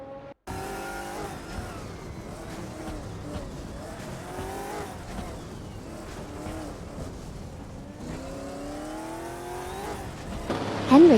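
Hypercars racing in a video game simulator, roaring engines rising and falling in pitch through gear changes, with passing cars and tire squeal, dense and continuous with a louder squeal at the end.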